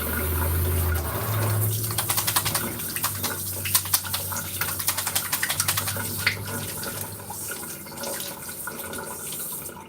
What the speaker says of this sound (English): The first thing I'm going to do is wash my hands